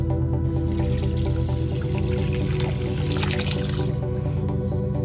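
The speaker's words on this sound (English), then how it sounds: "Now all I need to do is just add some essential oils and some Epsom salts." Essential oils and Epsom salts going into bath water in a tub in a teepee tent spa, with close, steady trickling and dripping liquid throughout and no talking.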